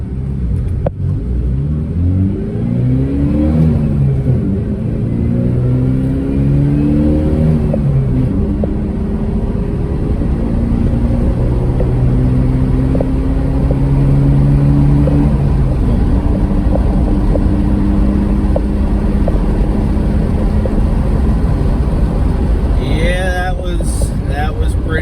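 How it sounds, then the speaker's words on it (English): A cheap $500 pickup truck accelerates through a 0 to 60 run, its engine rumbling loud and steady as rising, stepping harmonics mark the gear changes, with the drive continuous throughout. "Alright, we're gonna try out the good old 0 to 60 here, so we'll see how that goes."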